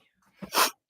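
A single sharp sneeze, a quick inhale and then a forceful burst, in an otherwise quiet county commission meeting room.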